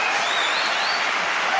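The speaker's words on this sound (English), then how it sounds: "let me give her a proper round of applause" An audience at an evening live show breaks into brief, dense applause, a loud, steady wash of clapping with no gaps.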